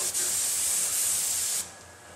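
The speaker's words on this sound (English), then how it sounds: "we can do that with this particular gun, coating the whole door" A spray gun coats a door with a close, steady high hiss lasting about a second and a half, then cuts off, leaving faint room noise.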